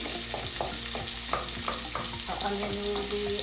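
Chopped ginger and garlic cooking in a pan, a steady close sizzle with repeated spoon scrapes and stirring knocks in an uneven rhythm.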